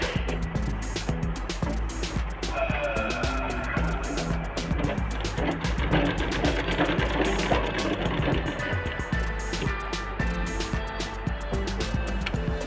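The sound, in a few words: sewing machine stitching a katori blouse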